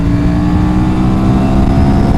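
A loud, steady Aprilia motorcycle engine note runs without a break, droning and revving close by with no one speaking over it.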